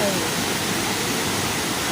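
Steady rushing water fills the clip, a constant broadband roar like a fast mountain stream flowing close by, with no pauses.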